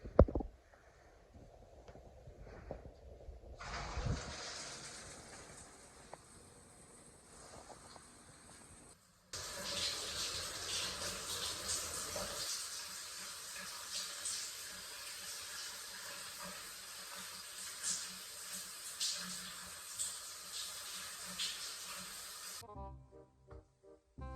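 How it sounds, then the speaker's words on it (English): Shower water sprays steadily for most of the stretch inside a converted van, a broad continuous hiss that starts, briefly stops, then resumes loudly and runs until it shuts off near the end. "I'm gonna have a shower in this gorgeous shower here"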